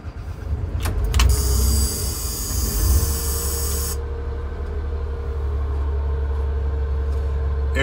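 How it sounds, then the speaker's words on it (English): A Caterpillar diesel engine in a Thomas bus cranks with a high whine and rattle, then settles into a low, steady idle rumble that carries on to the end. "The Caterpillar engine starts right up."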